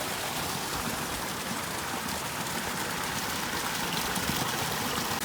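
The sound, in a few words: water flowing down hillside after heavy rain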